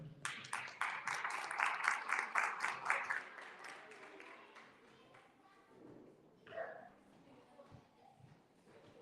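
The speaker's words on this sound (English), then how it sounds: "So also big applause to him." An audience at a cultural festival event breaks into brief applause, a burst of rhythmic clapping for a few seconds that fades out, followed by quieter room sound and a faint voice.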